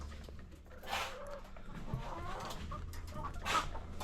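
Chickens in a chicken coop cluck softly at a distance over a quiet outdoor background, with a couple of louder squawks standing out near the middle and end.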